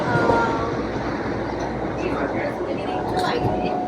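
Continuous rumble and rattle of a moving train heard from inside a carriage, with people talking over it.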